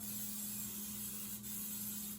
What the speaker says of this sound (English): We're going to spray some of the Pam olive oil.